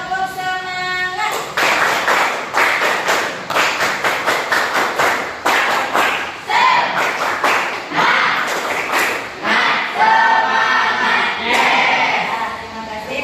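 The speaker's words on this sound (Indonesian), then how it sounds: "Terima kasih sudah melakukan tepuk semangat" Classroom students clap the rhythmic tepuk semangat pattern in quick bursts of sharp, close claps that run almost without a break, with a teacher's voice briefly heard at the start and again near the end.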